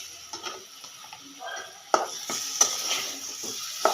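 Hilsa fish pieces being stirred and turned in a pan with a little bottle gourd, a run of soft scraping and clinking strokes with a few sharper knocks, close by over a low sizzle.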